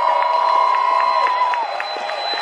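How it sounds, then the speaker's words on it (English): Crowd at a climate emergency rally cheering and clapping for Extinction Rebellion, a loud, continuous roar of voices with rhythmic claps and a sustained whistle-like tone running through it. "Give them Extinction Rebellion that round of applause"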